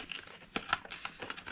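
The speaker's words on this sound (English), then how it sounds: "You can cut that off with some scissors or just tear it off" Excess material torn off by hand while assembling a Kattegutian Berserker shield handle, heard as a few sharp crinkling, ripping bursts close up, with quieter rustling between them and no talk.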